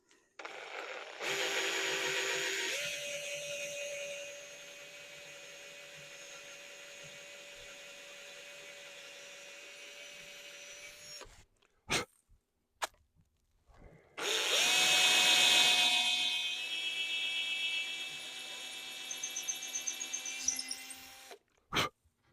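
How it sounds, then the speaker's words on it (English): A power drill with a brad point bit whines steadily for about ten seconds boring into a maple or birch dowel of an antique rocker, stops briefly with a few clicks, then bores again at a higher, louder pitch. "So as I'm drilling, I'm watching the sawdust"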